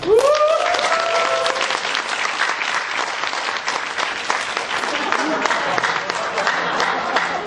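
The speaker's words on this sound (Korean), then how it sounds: "다시 한번 우리 송바오나를 뜨거운 박수." Loud, sustained audience applause with cheering after a young speaker's address at a national youth speech contest in Korea; a brief rising vocal whoop opens the clapping.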